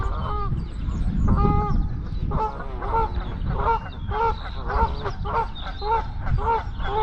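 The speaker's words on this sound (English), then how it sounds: "Now, geese are on fine form again this morning." A flock of geese honks repeatedly in a busy, overlapping chorus over low rumbling background noise at a lakeside fishing spot in spring.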